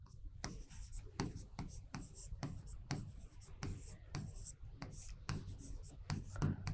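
Handwriting on paper during a Hindi-language class lesson, quick scratchy pen strokes in short bursts, with quiet voice murmur in the background.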